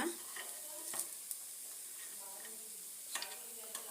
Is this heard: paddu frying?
yes